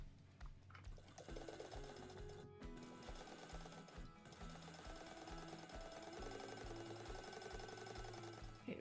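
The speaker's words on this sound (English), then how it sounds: "And then I'm going to top stitch this at 1/8 of an inch." A sewing machine top-stitches a sling seam at an eighth-inch allowance, running in steady rhythmic bursts with brief pauses, loud and close with no talk.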